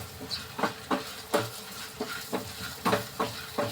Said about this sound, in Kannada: ಫ್ರೈ ಮಾಡೋಣ ಕ್ಲೀನಾಗಿ ಫ್ರೈ ಮಾಡಬೇಕು